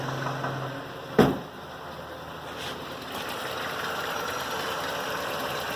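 A 1983 Toyota 4x4 pickup with a 22R engine converted to 22RE fuel injection idling steadily, a low, even mechanical hum and rumble close by, broken by one brief knock or thump early on.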